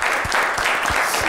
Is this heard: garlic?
no